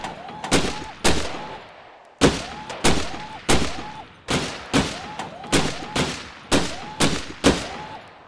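In the VR shooting game Gun Club VR, about a dozen loud, close gunshots ring out in an uneven rhythm. Each shot cracks sharply and then decays, with short gaps between them and no voices.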